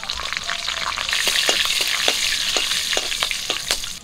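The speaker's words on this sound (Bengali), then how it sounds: "তেল গরম হয়ে গেছে, 2টো তেজপাতা নিয়েছি, দিয়ে দিচ্ছি" Two bay leaves with cinnamon, cardamom and cloves fry in hot mustard oil, giving a steady close sizzle with scattered sharp crackles and pops and the occasional stir throughout, with no voices.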